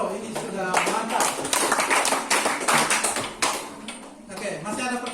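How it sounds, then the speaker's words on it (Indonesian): A group in a classroom claps hands in a burst of applause, mixed with voices talking and cheering over it. "Tepuk tangan dulu."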